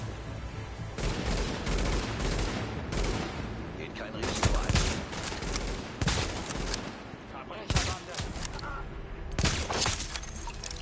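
Rapid bursts of video game gunfire crack repeatedly amid explosions and game noise, with someone speaking briefly over the shooting.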